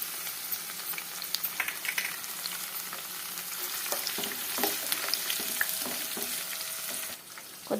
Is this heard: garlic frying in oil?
yes